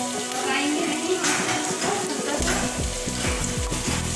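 Food sautéed in hot oil gives a loud, continuous sizzle and crackle, joined midway by low bubbling and stirring sounds, with a voice talking over it.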